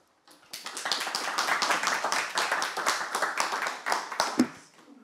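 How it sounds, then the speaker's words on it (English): A lecture audience at the University of Oxford claps steadily to welcome philosopher Stephen Priest, a dense, even round of applause lasting about four seconds and ending in a few scattered claps. "thank you for the a priori applause"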